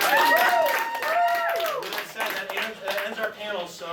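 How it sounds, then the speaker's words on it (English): Audience clapping at an anime convention game-show panel plays under a speaking voice, moderately loud and fading in spots across the few seconds. "So round of applause one more time, guys."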